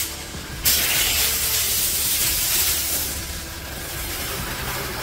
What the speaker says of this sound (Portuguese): Vocês escutaram o barulho do ar, né? Ele limpando a tubulação do tanque aqui